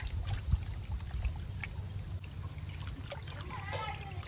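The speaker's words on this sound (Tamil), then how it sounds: "சிக்கனை ஒரு டைம் அலசினா பத்தாதுன்னு சொல்லி 2வது டைம் நல்லா அலசிட்டு இருக்கோம்." Raw chicken being rinsed a second time in water in a home kitchen, with continuous trickling, pouring and gentle splashing close by, and no voices over it.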